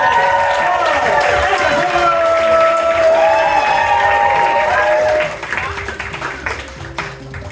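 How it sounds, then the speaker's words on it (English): Theater audience at an improv science show applauding and cheering, loud clapping mixed with whoops and crowd voices that drops off sharply partway through, leaving scattered claps and room chatter. "Keep that applause going."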